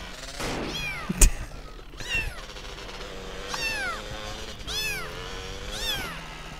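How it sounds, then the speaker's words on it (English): Cat meows played as a sound effect during a spooky GTA San Andreas livestream, several repeated rising-falling meows close and clear, with a sharp bang near the start. "I know, cat sounds."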